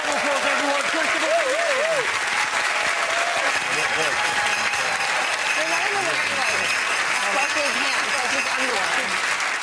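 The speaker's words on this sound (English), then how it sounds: "Round of applause, everyone." Sustained studio audience applause at a televised Christmas comedy quiz show fills the room, a loud, even wash of clapping and cheering with voices talking over it throughout.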